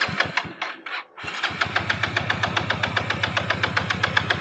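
A stunt motorcycle engine cranking and failing to catch, with a few sputtering turns and a brief pause before a long run of steady rhythmic starter chugging that never settles into a running idle.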